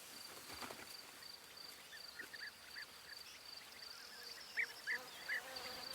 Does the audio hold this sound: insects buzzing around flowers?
yes